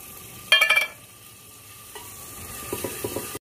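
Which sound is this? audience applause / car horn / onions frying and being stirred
onions frying and being stirred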